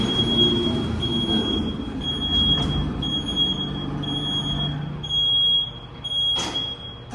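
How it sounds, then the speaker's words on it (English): A Bison hydraulic freight elevator's loud beeper keeps sounding as a steady high electronic tone in short repeated pulses, over the low hum and rumble of the elevator machinery inside an arts center building. "That beeper is so loud, probably all the building occupants from their rooms can hear."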